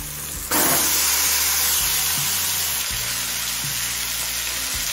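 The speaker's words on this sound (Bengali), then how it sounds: "এবার ম্যারিনেট করা চিকেনটা দিয়ে দিচ্ছি।" Marinated chicken drops into a pan of softened fried tomatoes and erupts into a loud, sudden sizzle that settles into a steady frying hiss with faint stirring.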